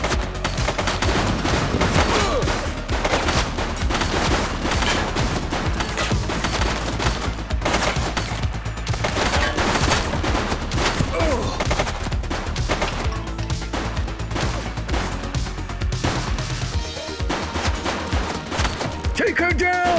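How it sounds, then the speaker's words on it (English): Dense, loud gunfire from the police video game The Precinct, with rapid overlapping bursts and shots hammering almost continuously for the whole stretch amid a busy, cluttered game soundscape. "She's shooting!"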